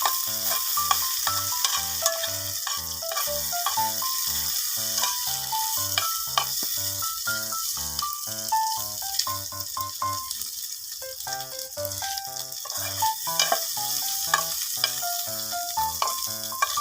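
Meat is stirred and fried in a pan: continuous loud sizzling with rapid, rhythmic scraping and rattling of a utensil against the metal, close up and with no talking.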